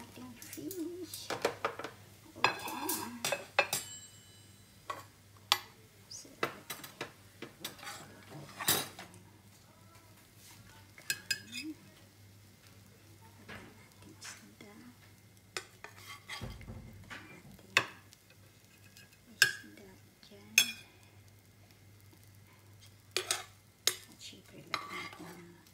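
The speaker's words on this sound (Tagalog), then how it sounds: "Nagluluto pa ako ng fried rice para sa aking bunsong alaga." Fried rice is cooked in a pan at home, with a utensil scraping and clanking against it in uneven bursts and a faint sizzle underneath, and quiet speech at times.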